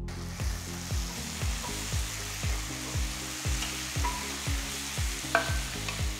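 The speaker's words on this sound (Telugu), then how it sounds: "టొమాటోలు బాగా మగ్గిన తర్వాత 1/2 టీ స్పూన్ పసుపు 1 టీ స్పూన్ ఉప్పు వేసి అంతా బాగా కలపాలి" Tomatoes with turmeric and salt stirred in a pan, a loud steady sizzle overlaid with a regular rhythm of spatula scrapes, about two strokes per second, close and with no voices.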